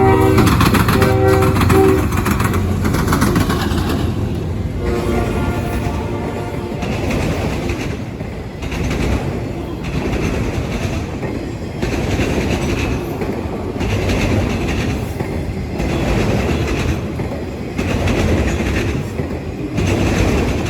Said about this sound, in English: the next train we would catch was loaded Attica M215 from Cumberland, Maryland to Wayne, Michigan